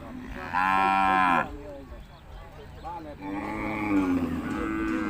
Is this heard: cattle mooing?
yes